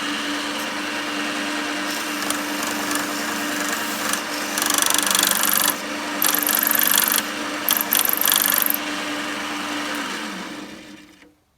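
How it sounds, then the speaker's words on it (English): Turning tool scraping a spinning wood ring with a metal core on a lathe, a steady whirring grind with brighter scraping bursts in the middle, close and loud and continuous, fading out at the end. "I'm going to try and get up to it and then push in that way and scrape the wood, scrape the metal"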